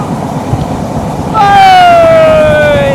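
A train speeds across the Jamuna rail bridge with a steady low rumble, joined midway by a sustained tonal whine or horn that makes the sound louder and fuller until the end.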